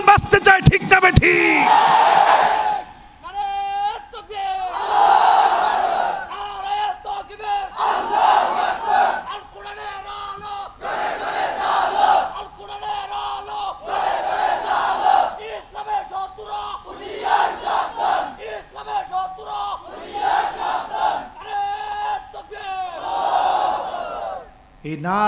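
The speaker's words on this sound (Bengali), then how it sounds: "এই নারায়ে তাকবীরের ভিতরে বলিষ্ঠতা আছে না নাই?" A large crowd at a religious sermon chants the Nara-e-Takbir slogan in loud, rhythmic call-and-response bursts, each shout repeated in regular pulses with brief pauses between.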